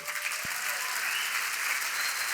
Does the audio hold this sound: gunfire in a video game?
no